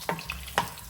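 Ginger frying in a pan for kinamatisang manok, a Filipino chicken-in-tomatoes dish, giving a soft steady sizzle with two brief stirring scrapes close by.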